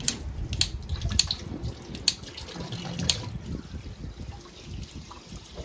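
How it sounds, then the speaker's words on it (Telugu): A household tap runs at normal pressure, giving a soft, steady trickle of water with faint splashes and drips, fairly quiet and close, with no talk. "నార్మల్ ట్యాప్ ప్రెజర్ చూడండి, ఇలా వస్తుంది"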